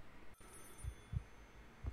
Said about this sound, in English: there's the phone ring